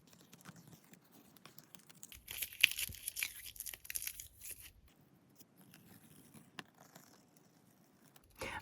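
Tape peeled slowly off watercolor swatch paper, a close, quiet ripping and crinkling that swells into a louder, sustained tear for a couple of seconds before easing back to faint scratchy peeling.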